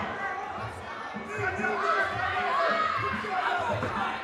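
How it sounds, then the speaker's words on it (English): Crowd at a Muay Thai fight, a steady murmur of chatter and scattered laughter filling the venue, with rhythmic thuds underneath and voices mixed into the constant background. "Crowd are loving it."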